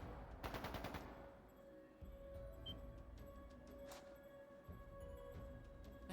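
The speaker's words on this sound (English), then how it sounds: "That didn't sound good. That sounded like gunfire." Video game gunfire from Trails of Cold Steel II: a rapid burst of automatic shots near the start, then a quieter sharp crack about four seconds in, over steady game ambience and a faint high tone.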